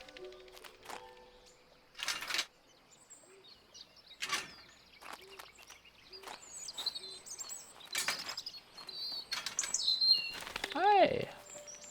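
In the Botany Manor puzzle game, birdsong of scattered chirps and tweets sounds close and fairly quiet, with short sharp calls and a trilled phrase near the end, among faint soft clicks and rustles.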